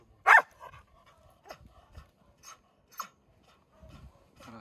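Sled dogs at a kennel in Karelia, with one sharp loud bark near the start followed by scattered fainter yelps, whines and scuffling sounds across a quiet background.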